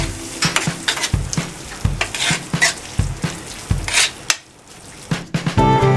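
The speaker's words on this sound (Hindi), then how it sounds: "इसे अच्छे से मिक्स कर लेंगे" Crumbled paneer stuffing stirred in a pan over low flame for kulcha, with steady spoon scrapes and a soft sizzle repeating in a loose rhythm, close and moderately loud with no talking.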